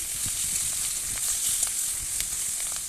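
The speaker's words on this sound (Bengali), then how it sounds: "উল্টে পাল্টে ভেজে নিচ্ছি" Rohu fish pieces sizzle in hot oil with a bright continuous hiss and occasional soft crackles as they are turned, close and steady with no talk.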